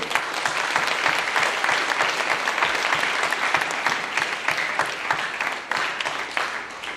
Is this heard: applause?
yes